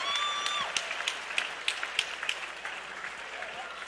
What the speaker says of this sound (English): How about a round of applause for both of these warriors?